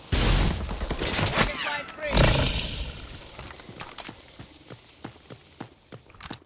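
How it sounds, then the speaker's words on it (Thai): Bursts of gunfire in the Delta Force mobile video game, a dense loud volley at the start followed by sparser sharp shots and footsteps, with voices mixed in. "โดนยิงขนาดนั้นใครจะไปอยู่"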